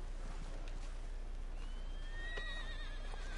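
A horse whinnies in the Red Dead video game, a faint, thin neigh rising out of steady background hiss in the second half, with no talking.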